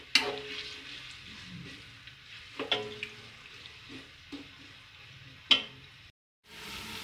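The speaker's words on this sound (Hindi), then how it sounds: "अब हम इसके अंदर एक बड़े साइज़ की प्याज कटी हुई डालेंगे। इसे अच्छी तरह फ्राई करेंगे।" Chopped onion goes into hot oil and fries with a soft, steady sizzle, broken by a few sharp clinks and scrapes of stirring, fairly quiet and close.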